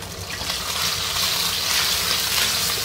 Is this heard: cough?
no